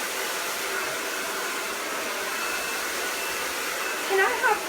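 A hair dryer blowing during a salon blow-dry, a steady loud whooshing hum close up that runs unbroken throughout, with a brief faint voice near the end.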